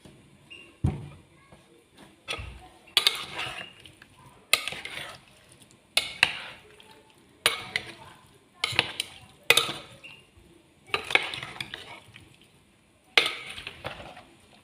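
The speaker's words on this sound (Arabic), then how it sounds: "نخلطها مليح باش يدخلوا الذوبات في بعضهم." Salad ingredients are tossed and mixed together in a bowl, with repeated bursts of clinking and scraping utensils against dishware in an uneven rhythm, close and fairly loud, without talk.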